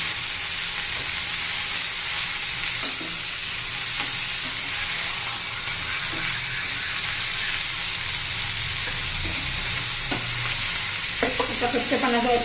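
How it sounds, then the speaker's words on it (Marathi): Onions sautéing in a pan for a spicy traditional onion chutney, a continuous close sizzle and hiss with occasional stirring knocks, no talking. "जितका आपण कांदा परतून घेऊ ना तेवढा कांदा असा सुट्टा सुट्टा होतो."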